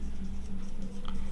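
A marker or chalk writes on a board during a maths lesson, short soft strokes and scratches over a low steady hum.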